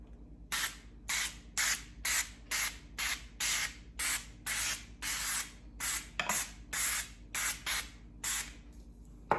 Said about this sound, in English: I have some olive oil cooking spray. It says to spray both sides generously.